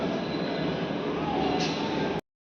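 The Ranchi Intercity Express stands at Dhanbad station at night, a steady dense rumble of the engine and carriages with faint squeal layered in, loud and continuous until it cuts off abruptly.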